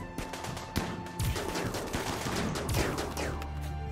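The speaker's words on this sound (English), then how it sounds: "let me go try to shoot Felix in the back" Rapid bursts of gunfire during a firefight in the RimWorld video game, sharp cracks and machine-gun rattles overlapping densely, fairly loud with no talk.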